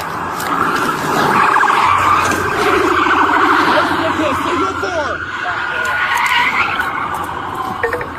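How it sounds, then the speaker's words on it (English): A Mazda skids through crowded streets while fleeing police in a high-speed chase, with tires squealing loudly for several seconds. Voices are heard over the screech. "The Mazda swerved frantically on the road, trying to lose the police through many crowded streets"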